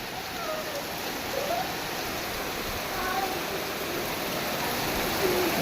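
Steady rain falls outdoors in a continuous, even hiss with faint patter on surfaces. It runs unbroken at moderate loudness, with faint distant voices barely audible beneath it.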